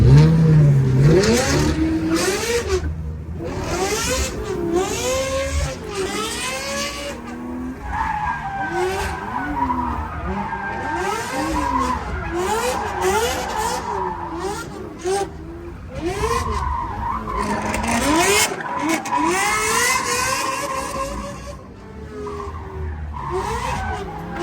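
A clapped-out BMW E36 drift car revs hard through a track lap alongside a Ferrari, engine note rising and falling in repeated sweeps with loud tire squeal and skidding throughout, close and continuous.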